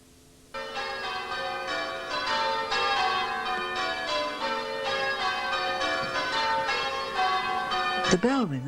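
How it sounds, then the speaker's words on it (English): Church bells ring at St Georges, Toddington, a peal of bells with the oldest cast in 1665 and most recast in 1792. The strikes come in a steady, layered sequence, loud and continuous, with a brief noise at the end. "The bell ringers are especially in demand for weddings."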